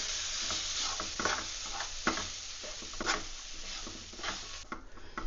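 Rava stirred as it fries in a pan over a medium flame for rava laddu, giving a continuous soft sizzle with repeated scraping strokes of the spoon across the pan, close up and with no talking.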